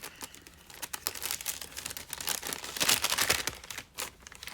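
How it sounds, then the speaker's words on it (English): Plastic packaging crinkles and rustles as it is opened indoors, in soft, irregular bursts of close crackling that swell and fade with no one speaking. "So I will do minimal crinkling."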